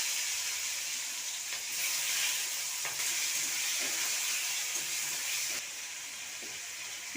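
Chopped tomato, bay leaf and green chili fry in hot oil with caramelized sugar, a steady close sizzle and hiss with small crackling spikes throughout, slightly quieter near the end.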